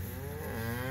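A cow in a feedlot pen of feeder cattle gives a long, steady moo that fills the whole moment, loud and close with no talking over it.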